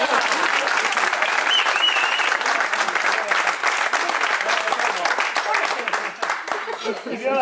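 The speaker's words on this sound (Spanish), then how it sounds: "Un aplauso para quien ha empezado." Dense, sustained applause from a live audience follows a sung song, steady and loud throughout with a few voices faintly mixed in.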